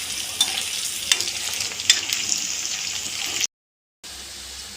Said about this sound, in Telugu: చికెన్ బాగా ఫ్రై అయింది.